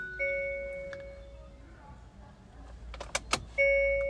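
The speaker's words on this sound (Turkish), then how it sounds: "Kontağı açtım." Ignition switched on in a 2021 Hyundai i20 with a 1.4-litre 100 hp automatic, bringing steady electronic chimes, a few sharp clicks near the end and then a sustained warning tone, all close inside the cabin.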